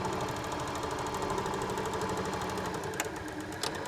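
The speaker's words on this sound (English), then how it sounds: "Line all your fabric edges back up and continue sewing to the end." A sewing machine stitches along the fabric edge of a zipped pouch with a fast, steady mechanical whirr and rhythmic needle clatter, close by, with a couple of small clicks near the end and no one talking.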